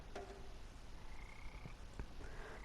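Croaking from an army of frogs in a swamp in the video game Memoranda, a few short croaks and chirps scattered over a steady ambient game background, fairly faint.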